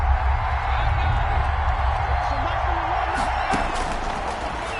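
A stadium crowd in a PS4 American football game roars in a steady, dense wall of cheering ahead of a big third down, loud and continuous with faint whoops rising near the end.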